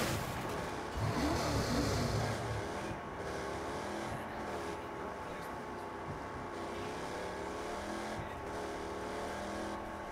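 Continuous car engine drone in the Saints Row video game during a drift, steady and fairly loud with shifting harmonic tones, no talk over it.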